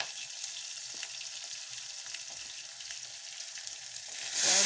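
Tomatoes dropped into hot tempering oil with curry leaves and garlic, a steady close sizzle and crackle throughout that swells louder at the very end as they hit the pan.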